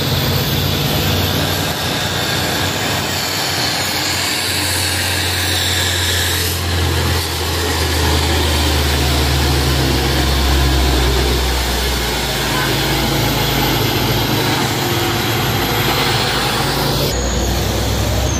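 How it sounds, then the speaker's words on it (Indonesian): An orange Fuso truck climbs a slope alongside two Canter trucks, heavy diesel engines roaring loud and close in a steady, shifting drone, with a brief talking voice over the traffic. "ini Fuso Oren ya teman-teman, beriringan dengan 2 truk kanter"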